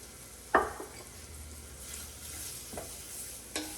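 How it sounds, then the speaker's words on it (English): Onions and celery seed sauté quietly in a pot with a soft, faint sizzle, broken by three sharp utensil knocks against the pan as they are stirred. "we are going to saute our onions and our celery seed"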